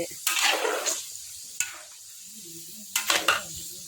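Pork fat rendering in a pan over low heat, with bursts of sizzling and stirring scrapes at the start and again near the end, and a quieter bubbling hiss in between.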